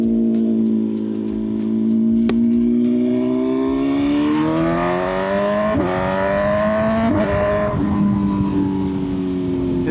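BMW M1000R superbike exhaust revving hard and climbing through gears, a loud, close engine note rising in pitch with sharp shift breaks and repeated pulls, no talking.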